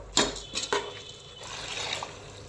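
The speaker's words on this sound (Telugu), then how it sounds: "సో మనం వాటర్ కూడా వేసేసుకున్నాము." Water poured into a pot of basmati rice and masala for bagara rice, opening with a few sharp splashy bursts and then a softer running trickle and pour, close by with no talking.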